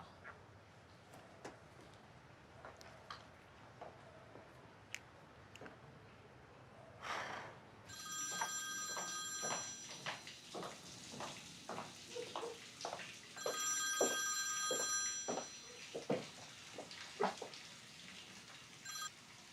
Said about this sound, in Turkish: Ah be Sadrettin, aç be şu telefonunu ya.